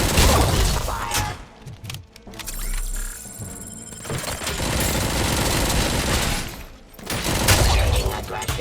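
Gunfire in the video game Robocop Rogue City, loud rapid automatic bursts with heavy thumping impacts and shattering debris, broken by a short lull before the shooting resumes and continues to the end.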